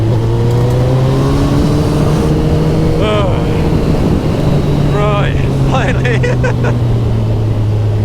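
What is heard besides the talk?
Kawasaki ZZR1400 motorcycle overtaking a bus on a country road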